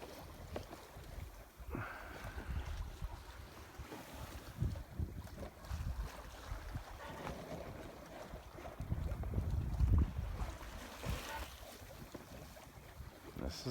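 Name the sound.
sailboat sailing in light wind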